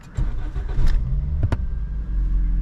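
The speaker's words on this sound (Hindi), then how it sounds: "फ़ौरन आपकी गाड़ी जो है वो स्टार्ट होती है" Petrol engine of a Toyota Corolla fitted with an LPG system cranking briefly and catching on a cold start, then settling into a steady low idle, close and fairly loud with no talk.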